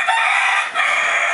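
An ayam kapas chicken at a floating market gives a steady, bright, continuous call over about a second and a half, close and loud with a brief dip midway, no talk over it.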